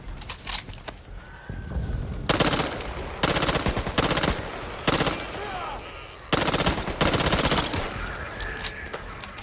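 SMG bursts in the video game Back 4 Blood, loud and close, several rapid-fire volleys separated by short pauses over a background of game ambience.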